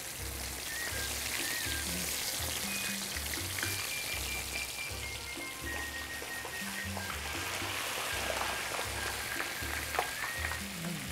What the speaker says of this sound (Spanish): Vamos a dejar que se frían esos.